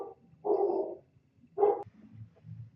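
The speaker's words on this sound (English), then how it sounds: "Sorry, my dogs are barking." Dogs bark indoors in two short loud bursts separated by a pause, with faint whimpering or movement noise trailing after.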